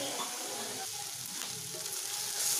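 Onions sautéing in a pan for a Tamil-style chutney, a steady close sizzle and crackle of frying with faint stirring, continuous throughout with no talking.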